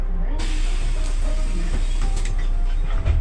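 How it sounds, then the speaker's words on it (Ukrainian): Bus doors close with a sudden hiss of air followed by a steady mechanical whir and a few creaks and clunks under a constant engine rumble. "Зачиняємо всі двері."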